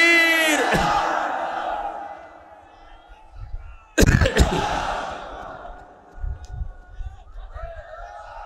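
A crowd at an outdoor Islamic sermon gathering in Barisal answers a call with a loud, sudden collective shout of takbir, rising sharply over fading speech and followed by scattered voices.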